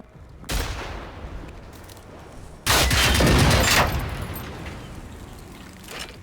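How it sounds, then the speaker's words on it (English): Video-game gunfire in Generation Zero: a sharp burst of automatic fire, then a longer, louder sustained volley with cracks and echoing booms that trail off into a distant rumble and a late single shot. "Who's still shooting?"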